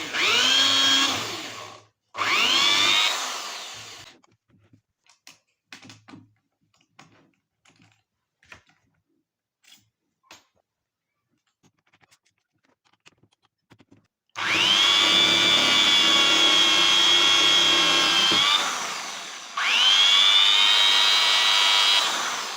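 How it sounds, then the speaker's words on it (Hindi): An electric drill bores a hole in a switch board in two loud, steady bursts of whirring motor, separated by a long stretch of quiet handling with small clicks and taps. "इसी ड्रिल मशीन का उपयोग करके हम इस स्विच बोर्ड में एक होल कर देते हैं"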